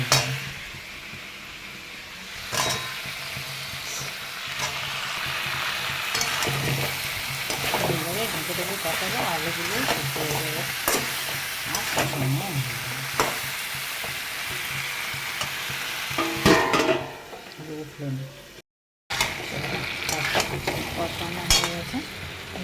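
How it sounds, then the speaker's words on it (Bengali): Potatoes fry in a pan with a continuous sizzling hiss, and utensils clack and stir against the pan now and then. A voice is heard over the cooking. "এই সময় আলু ভেজে দিয়ে দেবো"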